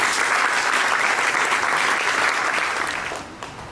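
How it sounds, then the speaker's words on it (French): An audience applauding donors at a school supplies handover ceremony, a loud sustained wave of clapping that thins out and fades at the end. "je voudrais que vous acclamiez pour eux"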